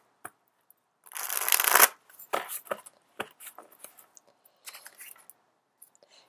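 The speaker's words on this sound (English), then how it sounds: "these cards fell out, but they were face down, so I'm still going to shuffle them" A deck of tarot cards being shuffled by hand, a dense riffling burst followed by scattered lighter flicks and taps of cards, close and fairly quiet with no voices.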